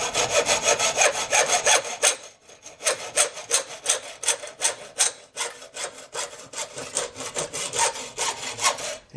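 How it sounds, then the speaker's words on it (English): Hacksaw cutting tubing during a 1957 Chevy air conditioning job, steady rhythmic back-and-forth strokes with a brief pause after the first two seconds, close and clear with no talk. "did y'all know that the hacksaw blade only cuts one way?"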